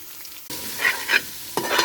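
Shallots and onions hit a pan of green chillies, and after a brief quiet moment a loud sudden sizzle bursts out, then swells and rises again with stirring scrapes close by.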